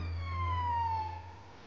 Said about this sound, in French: une ambulance arrive.